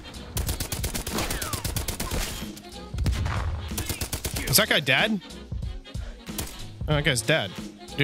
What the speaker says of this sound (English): I'm shooting at a dead body